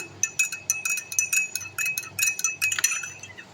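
A spoon clinking rhythmically against a glass while stirring butterfly pea and hibiscus flower tea, a quick run of light, bright taps close by with no talk.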